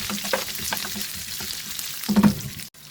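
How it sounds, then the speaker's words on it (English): Chopped onion and broken Kashmiri chilies fry in a pan with a steady close sizzle, punctuated by a few stirring scrapes and a louder burst near the end before a brief cut. "Fry the onion till they become soft"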